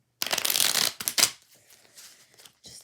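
A deck of playing cards riffled and shuffled close up, a brisk burst of fluttering flicks followed by softer handling and a final quick riffle.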